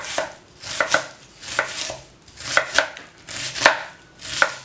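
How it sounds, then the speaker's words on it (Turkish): Knife dicing onions on a cutting board in quick bursts of sharp taps, clustered in small groups with brief pauses between, close and clear. "Soğanlarımı küp küp doğrayacağım."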